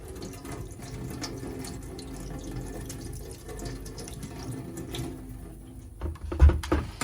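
Peaches are rinsed under a running tap to scrub off their fuzz, water splashing steadily and close, with a few louder sloshes and drips near the end and no voices.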